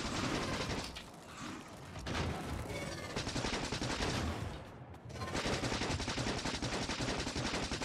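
Turrets in the factory-building game Factorio fire rapid bursts of gunfire in continuous, dense rattling volleys that pause briefly a couple of times, with no voices.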